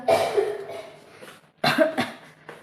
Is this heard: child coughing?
yes